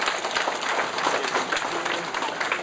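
An audience claps together at an induction ceremony, a dense, even wash of applause that holds steady throughout with no voices over it.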